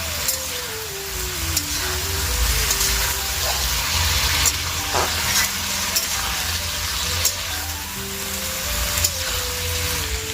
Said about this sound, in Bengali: এই দেখো সিম ভাজাটা আমার কিন্তু হয়ে গিয়েছে